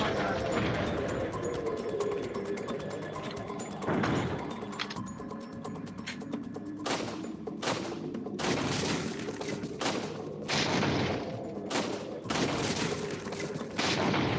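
Gunfire from Resident Evil 4 VR rings out in repeated sharp shots and short bursts, close and loud, with a person talking between and over the shooting.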